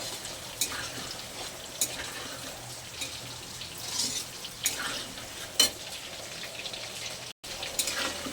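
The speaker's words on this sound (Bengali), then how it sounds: "একটু ভাজা ভাজা করে নেব।" Cut, washed potatoes frying in a pan for khichuri, a soft continuous sizzle with scattered clicks and taps of stirring, heard alone.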